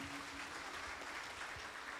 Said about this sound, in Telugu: ఇంకొకసారి గట్టిగా చప్పట్లు కొట్టుకుందాం మనం.